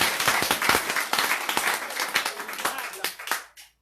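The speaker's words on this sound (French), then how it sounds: "il y a un gros applaudissement pour mon Dieu qui va changer" Church congregation breaking into lively applause, dense rapid clapping from many hands close by that holds steady, then fades and stops abruptly near the end.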